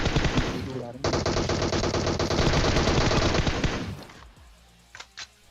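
M4 assault rifle fire in the mobile battle-royale game PUBG Mobile: a dense, loud burst of rapid automatic shots running about three seconds, then fading, followed by two short sharp reports near the end.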